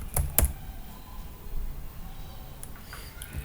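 A few quick keystrokes on a computer keyboard while logging in, close and crisp at the start, then a couple of faint taps over quiet room hiss.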